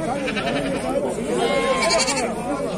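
Sheep bleating at a livestock market in Füzuli, wavering overlapping bleats from a nearby flock, loud and continuous with crowd noise beneath.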